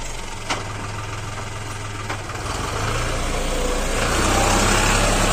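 A Mahindra 255 tractor engine runs while it descends a long steep slope under full braking with a loaded trolley, a close steady diesel drone with knocking texture and a couple of sharp clicks, growing slightly louder toward the end.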